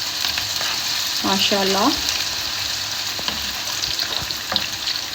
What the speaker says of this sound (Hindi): अब हम इसमें ये प्याज शामिल करेंगे और प्याज को हमने इसमें हल्का सा गोल्डन ब्राउन करना है।